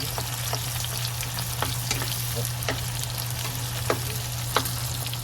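Tomatoes sizzle and fry in a hot pan as they are sautéed and crushed, with a steady crackle and occasional sharp taps of a utensil, close and with no talking.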